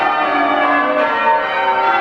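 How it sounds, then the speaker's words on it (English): Church bells of York Minster cathedral in York, England, ringing in the morning with a loud, steady, sustained ringing tone that carries unbroken throughout. "But listen to the bells. The bells sound nice."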